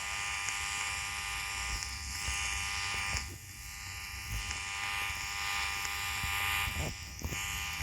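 A vacuum cleaner in a video game gives a steady electric buzzing hum that runs continuously, with slight shifts in level.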